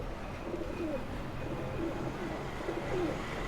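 A pilkha pigeon and others coo in low, rolling phrases at a Delhi pigeon shop, several soft calls spaced a second or so apart over a steady murmur of background noise.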